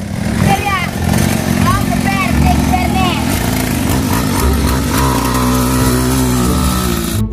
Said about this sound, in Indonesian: Udah geber sama moge